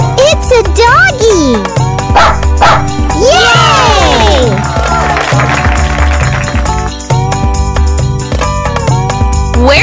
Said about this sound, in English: Surprise! It's a dog!